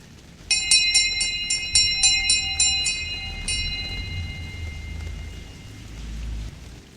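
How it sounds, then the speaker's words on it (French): A bell rings out in quick repeated strikes, bright metallic tones chiming about eight times in a steady run, then one last strike that fades into a low rumble of rain and distant thunder. "La cloche a retenti"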